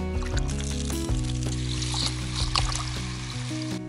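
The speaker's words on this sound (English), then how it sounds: "We wash rice 3 times in 3 waters." Wet swishing and sloshing as rice is stirred in water, with soft splashes over steady background music.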